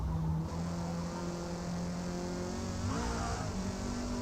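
A race car engine in the Forza Motorsport video game drones at a steady pitch, then revs upward near the end, loud and continuous with no talking.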